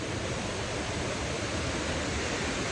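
Heavy river flow pouring over a waterfall, a loud, steady, broadband rush of water with no breaks, close by and filling the whole scene.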